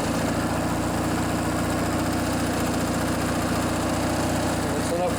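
Lawn mower engine idling steadily after the choke is turned off, a continuous loud low rumble with vibration running throughout.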